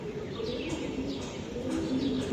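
Exhibition pigeons coo softly and steadily at close range, a low continuous murmur of several birds with faint chirps mixed in.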